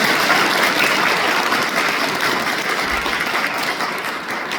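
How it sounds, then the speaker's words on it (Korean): A congregation at a Won Buddhist temple service in Seoul applauds, a loud, dense wall of clapping that holds steady and then begins to taper slightly toward the end. "우리 모두 감사와 존경의 마음을 담아 큰 박수 부탁드립니다"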